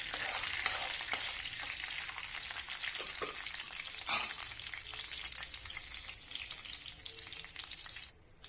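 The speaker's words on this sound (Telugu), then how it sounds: "ఇక్కడ కట్ చేసుకుని ఉంచుకున్న ఆనియన్స్, అల్లం అన్నీ ఫ్రై చేసుకోవాలి" Chopped onions, tomato pieces and ginger sizzle and crackle in hot oil in a pan along with urad dal and chana dal tempering, a steady close frying hiss with occasional stirring scrapes.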